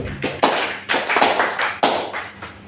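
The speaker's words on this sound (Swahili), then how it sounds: "Pigia Yesu makofi." A church congregation claps for Jesus in a burst of several loud, uneven claps that come close together and build to a peak of applause. No one speaks.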